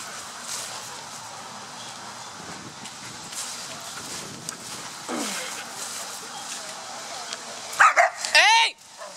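A dog gives a few loud, close barks near the end, following a stretch of people talking and shuffling sounds in the background.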